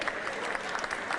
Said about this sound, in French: je vais vous demander tous des applaudissements